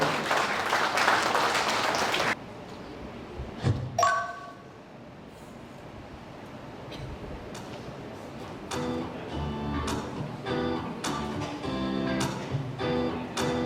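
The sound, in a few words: audience applause at a launch ceremony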